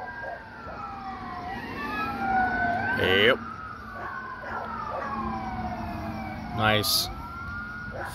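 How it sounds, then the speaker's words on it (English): Ambulance or fire truck siren wailing and sweeping in pitch on a road during Fourth of July fireworks in Kingman, Arizona, fairly close and steady, with brief sharp horn blasts and short spoken remarks nearby. "Now the ambulance, or the fire department."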